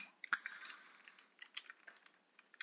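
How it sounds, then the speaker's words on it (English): Loud clacking of a computer keyboard during a Minecraft Bedwars session on Hypixel, quick irregular key taps and bursts of clicks, close and crisp but fairly quiet overall. "My keyboard is so loud, dude."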